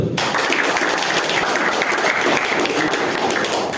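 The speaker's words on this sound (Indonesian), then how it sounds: "Oke, beri aplaus dulu." Audience applause at a regional teacher training session in Lubuklinggau, Indonesia, dense steady clapping filling the room at full loudness for several seconds without a break.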